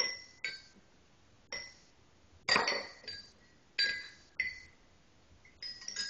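Soft, bright tones of a homemade glass xylophone struck one at a time at an unhurried pace, each ringing briefly and fading, close and gentle.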